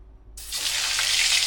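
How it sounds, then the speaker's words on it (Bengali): A kitchen tap suddenly opens after a moment of quiet, and water gushes loudly and steadily while cut vegetables are washed under it. "ধুয়ে আমি তরকারিটা ধুয়ে নিচ্ছি।"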